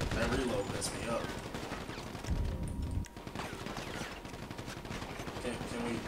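Gunfire in a GTA V shootout with police: rapid bursts of shots and crackling fire, with a short lull partway through, under excited talk from a player.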